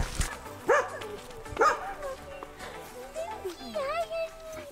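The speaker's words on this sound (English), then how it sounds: "We were greeted every morning by the Callahan's dog, Loki, who was very excited to get some attention" A farm dog in Homer, Alaska, barks excitedly in a few loud, close yaps, mixed with children's voices and chatter during morning chores.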